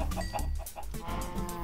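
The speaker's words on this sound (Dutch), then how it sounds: "En deze kip, ga neer." A Minecraft chicken clucks in short, rapid bursts, loud and close, several clucks in a quick run without talk.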